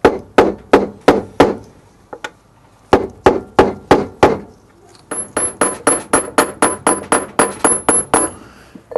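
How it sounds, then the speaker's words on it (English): Rapid metallic hammer blows drive a washing machine bearing out, struck through a bolt used as a drift, sharp close taps in quick bursts with short pauses between, about two dozen strikes in all. "just to start tapping. Keep working your way around evenly"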